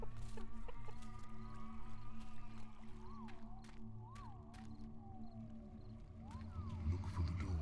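Chickens clucking in the fantasy video game Masters of Albion, several short warbling calls over a steady low ambient hum and rumble, moderately faint.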